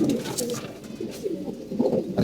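Pigeons coo softly and repeatedly nearby, low rolling calls overlapping in a steady murmur.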